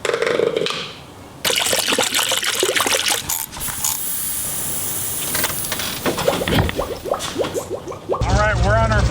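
Coolant gurgles and splashes steadily as it is poured into a side-by-side being repaired, with people talking loudly over much of the pouring and a brief mechanical rattle near the end.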